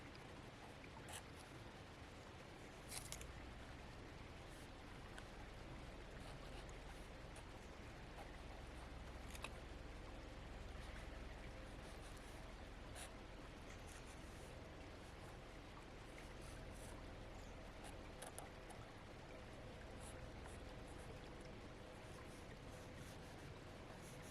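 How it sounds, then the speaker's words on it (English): A babbling brook flows over rocks in an autumn outdoor setting, giving a steady, soft, rushing wash of water with occasional small splashes throughout. "I'm gonna guess you would prefer to hear the babbling brook over me"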